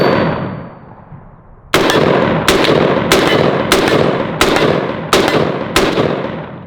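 Seven loud rifle gunshots from a rifle that is not sighted in, test fired at close range, each sharp crack spaced roughly half a second to a second apart, with ringing decay between shots and no talking.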